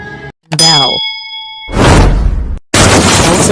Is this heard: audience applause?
no